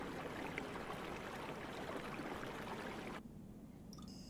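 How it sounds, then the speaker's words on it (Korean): A steady wash of flowing stream water from the Noizio ambient sound app runs continuously, then cuts abruptly to a quieter background near the end. "시냇물 소리도 있답니다."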